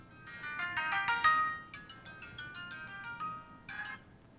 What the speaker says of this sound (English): I have a regular cell phone, and normally at some point you should hear it ring.